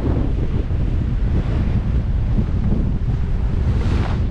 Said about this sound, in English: when the waves break or the whitewash gets blown off, it actually blows with the wind